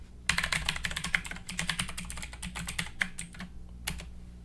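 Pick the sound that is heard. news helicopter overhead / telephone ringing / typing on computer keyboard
typing on computer keyboard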